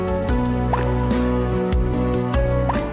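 Water dripping from drip irrigation lines in a grape vineyard, a close series of wet plinks and drops with a steady liquid trickle underneath.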